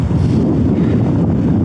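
Strong wind buffets the microphone on the Skiddaw summit area in winter rain, a steady, loud rumbling roar with no pauses.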